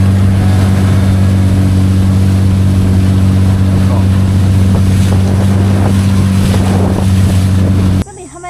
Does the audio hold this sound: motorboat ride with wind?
yes